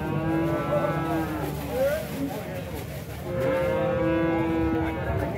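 Several cattle moo loudly and repeatedly at a livestock fair, long overlapping lowing calls close by, with outdoor fair noise between them.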